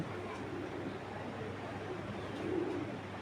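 Racing pigeons coo softly and low, a faint murmuring swell that rises briefly near the end over a steady background hush, with a voice faintly present.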